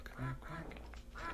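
A duck quacks a few times in a 3DO video game from 1995, short nasal calls heard close under a person talking.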